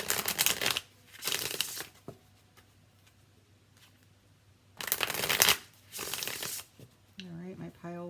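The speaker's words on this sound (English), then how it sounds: "Just going to shuffle a couple more times" Tarot cards being shuffled in several brisk riffling bursts, close and crisp, separated by quiet pauses, with a voice talking briefly near the end.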